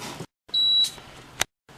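A Danby DDR050BJPWDB dehumidifier alarm gives one sharp, high electronic beep, loud and close, bracketed by short bursts of mechanical handling noise and brief clicks.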